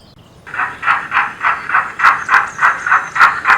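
A short goods train on the King's Lynn line arriving at Dearsley station, with steady, evenly spaced chuffs over a soft background hiss, loud and close throughout.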